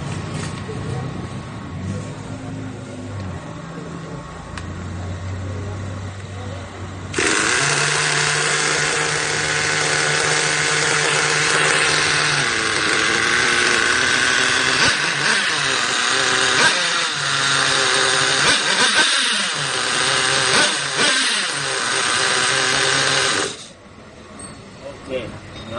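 An HPI 4.6 nitro engine in an RC truggy, running slightly overheated, bursts into a loud, high buzzing whine that rises and dips as it revs for about sixteen seconds, then cuts off. Quieter sounds and possible talk come before it starts.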